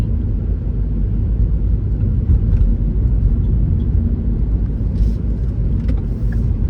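Steady road traffic rumble of cars passing through a roundabout in the UK, continuous and fairly loud engine and tyre noise without pauses.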